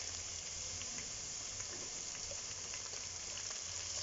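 Green chillies frying in hot oil in a home kitchen pan, a steady, dense sizzle with fine crackling pops running evenly throughout, fairly quiet and with no talking.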